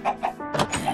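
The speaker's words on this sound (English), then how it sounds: "I'm going to be killing all these chickens in here." Chickens in the video game Minecraft cluck in a quick series of short, close, fairly loud calls, with no talk over them.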